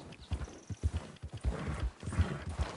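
Horse hooves clip-clop in Red Dead Redemption 2, a quick uneven run of close, heavy thuds across the whole stretch, with a whinny mixed in.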